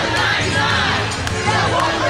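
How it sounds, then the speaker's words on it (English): Occupy Wall Street protest crowd cheering and shouting during a march, a dense loud roar of many voices with chatter mixed in. "They seem to be cheering about something."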